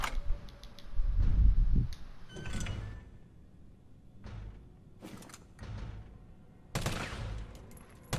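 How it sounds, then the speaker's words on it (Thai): Gunfire in Resident Evil 3, a few scattered shots with sharp broadband bursts, one heavy low thump early and another burst near the end, over a dim game ambience with no talking. "ยิงให้โดนสิ"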